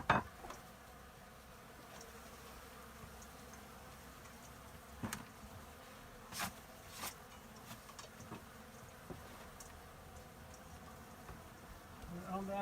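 Honey bees swarm around an exposed nest during a cutout removal, a steady faint buzz running throughout, broken by occasional clinks and knocks of tools and comb being handled nearby.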